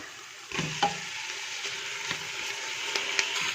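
Lamb pieces go into a pan of soft, translucent sautéed onions for a Persian split pea stew. A soft clunk is followed by close, steady sizzling frying that continues throughout.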